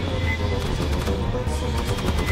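Rapid, continuous gunfire crackles in a dense, loud burst, like automatic weapons firing in a game battle, with no pauses, in the video game Aliens: Fireteam Elite.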